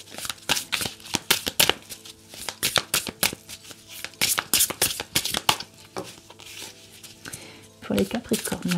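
Oracle cards riffle and slap in rapid, uneven bursts as a deck is shuffled up close for a card reading, with someone speaking French over the shuffling.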